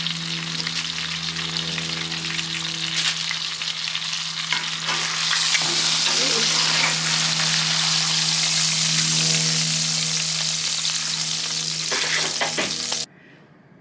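A cowboy wagyu ribeye steak searing in a hot pan, a loud steady sizzle and crackle of fat that swells midway and cuts off abruptly near the end, with a low hum underneath.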